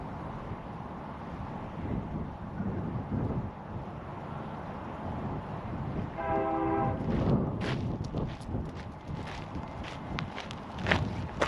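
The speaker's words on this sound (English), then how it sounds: "I heard a train horn in the distance" A far-off train horn sounds once in a brief sustained blast over outdoor ambience, with footsteps crunching along a path.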